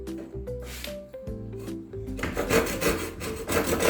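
A handsaw cuts through wood for a chair leg, first with slow uneven rubbing strokes, then faster, rougher rasping strokes close by.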